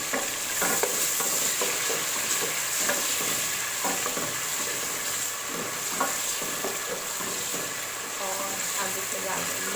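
Tomatoes frying in a pan with garlic paste while jeera rice is made, a steady loud sizzle broken by repeated scraping stirs of a spoon against the pan.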